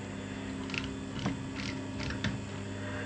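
A sewing machine stitching slowly along a collar edge, a steady mechanical hum with faint ticking clicks repeating over a few seconds, heard alone.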